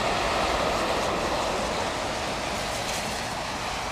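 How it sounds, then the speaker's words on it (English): An airliner's thrust reversers roaring on landing in heavy rain, a loud, dense, steady broadband rush that holds constant throughout, close and unbroken by talk. "Stand on those reversers, mate."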